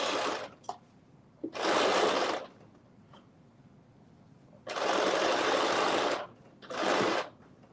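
Sewing machine running across a shoulder seam, stitching from the fabric side straight through to the lining of an oversized puffy-sleeve dress; three loud bursts of stitching separated by quiet pauses.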